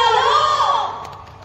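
A crowd at a Hindi comedy poetry gathering (kavi sammelan) in Deoria lets out a loud, sustained roar of shouting and cheering that gradually fades toward the end.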